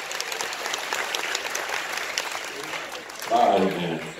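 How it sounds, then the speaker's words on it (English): Audience applause during a couples' game show aboard a cruise ship, steady clapping throughout with a voice speaking over it near the end. "Give him a big round of applause"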